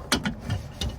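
A few quick ratchet clicks, about four, come close and fairly quiet as a fitting is tightened during a boat repair.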